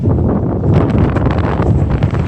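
Strong wind gusts of about 30 knots buffet the microphone on a sailboat in rough, continuous gusts, a loud low roar with rustling bursts and no voices.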